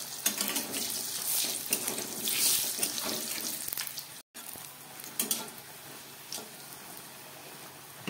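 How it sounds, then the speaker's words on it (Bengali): Pieces of eggplant fry in hot oil in a fish-curry kitchen, giving a steady, close crackling hiss that runs almost unbroken and cuts out for a moment midway. "তেলটা গরম হয়ে গেছে। আমি কয়েক পিস বেগুন ভেজে দিচ্ছি।"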